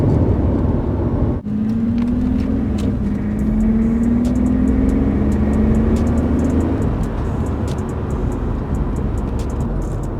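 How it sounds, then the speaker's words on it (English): A BMW E31 with a six-speed manual heard from inside while driving, a steady loud engine drone with a rising pitch as it pulls through a gear, plus a brief shift break early on. "This thing with a 6-speed and it actually sounds like a V12."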